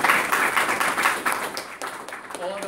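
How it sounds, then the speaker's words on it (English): An audience at a software defined radio meetup gives a round of applause, the clapping loudest at first and then thinning out as voices start talking. "maybe even a little round of applause for all"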